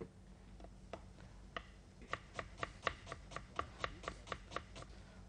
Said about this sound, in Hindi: प्याज को बारीक हमने चॉप करना है